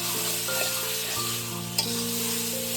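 Banana flower (mocha) fries in oil in a pan as the last of its water cooks off, giving a continuous close sizzle and crackle with a brief clatter partway through.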